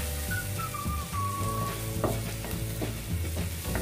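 Garlic frying in butter while being stirred, a continuous close sizzle with rhythmic scraping and light clicks of the utensil against the pan.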